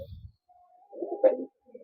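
Low, rolling cooing from a Kaldoma pigeon in a loft, a short close coo phrase with a brief burst in the middle, alone and without talk.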